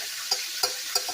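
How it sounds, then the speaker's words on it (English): Three quick, evenly spaced stirring scrapes in a pan of Chicken Francisco, close and distinct over a soft background sizzle. "Stir that up really, really good."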